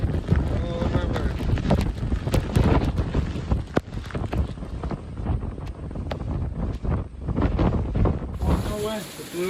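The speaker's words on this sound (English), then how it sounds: "That was a good old wind." Strong wind gusting around an off-grid cabin as it blows the screens off, with loud buffeting and broadband rushing throughout, sharp knocks and rattles, and people talking over it.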